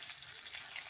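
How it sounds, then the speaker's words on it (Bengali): Green chilies drop into hot oil for a vegetarian jackfruit curry, giving a short, steady sizzle with a faint watery crackle, close and alone. "এবারে আমি কাঁচা লঙ্কাগুলো দিয়ে দিচ্ছি"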